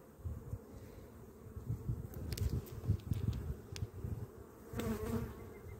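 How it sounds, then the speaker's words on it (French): Honeybees swarm around an opened hive on the coast during the first hive inspection of the season, making a steady, close, dense buzzing hum with occasional faint clicks and knocks, and no talking. "C'est des belles abeilles, ça."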